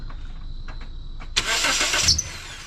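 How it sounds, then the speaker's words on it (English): A car engine cranks and catches after an alternator replacement, a short burst of starter whir followed by the engine firing up, after a quiet stretch with a faint tone. "go ahead, start the car"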